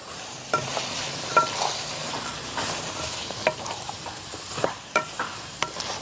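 Steady sizzling in a pan with repeated scraping and clinking strokes of a spoon as tapioca is stirred, close and fairly loud.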